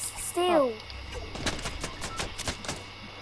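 Gunfire in the Fortnite video game, a rapid series of sharp cracking shots spread over a couple of seconds at moderate distance, with a player's voice heard briefly just before.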